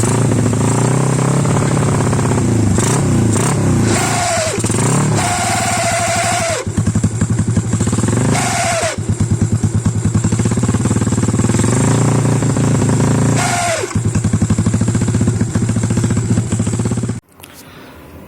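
Yamaha X1R/LC135 motorcycle engine fitted with an electric-shift gearbox runs steadily up close, loud throughout with a dense mechanical clatter and a few brief rev changes, cutting off abruptly near the end.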